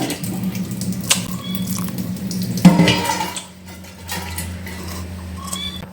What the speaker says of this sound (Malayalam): നമുക്കിതൊന്ന് കഴുകി ഇത്തിരി വെള്ളം കുറച്ചെടുത്ത്